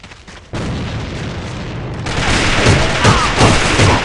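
Grenade explosion in the video game AVA, a sudden loud blast followed by continuous booming and crackling gunfire that grows louder, dense and close.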